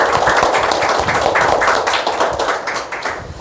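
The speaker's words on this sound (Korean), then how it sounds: "우리 모두 주님 앞에 감사의 박수 한번 올려드리겠습니다" A church congregation gives a sustained round of applause during Korean worship, with dense steady clapping from many hands filling the room. It holds at an even level for several seconds and eases slightly near the end.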